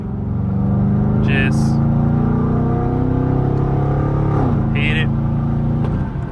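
Camaro SS V8 engine droning loudly as it accelerates on the road, with a steady low exhaust burble and a brief rev dip near the end; someone speaks briefly over it.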